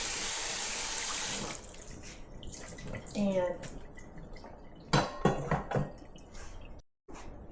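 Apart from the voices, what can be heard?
rinsing pasta with cold water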